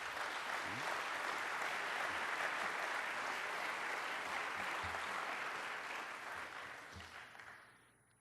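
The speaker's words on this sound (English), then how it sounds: "Pity about the applause there." Sustained audience applause fills a public presentation on the book God Is Not Great, loud and dense throughout before tapering off near the end.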